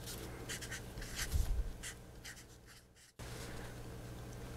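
Chalk or marker scratches out short strokes on a board, quiet bursts of writing in an uneven rhythm over a faint room hum, with no talking.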